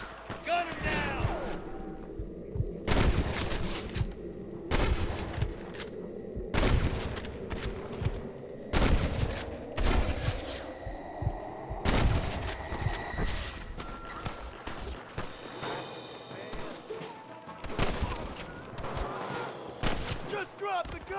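Gunfire in the Western game Red Dead Redemption during a shootout with rustler guards, loud sharp shots at irregular intervals, some in quick pairs, over a humming background with voices calling out between them.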